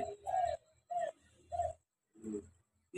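A zebra dove (perkutut) coos close by in a run of soft, rounded phrases with short pauses between them, the calls clear against a quiet background.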